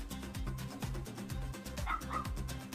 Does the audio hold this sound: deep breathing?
no